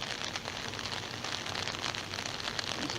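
Heavy rain pours outside a house at night, a dense, constant wash of patter with no letup and no voices, steady throughout.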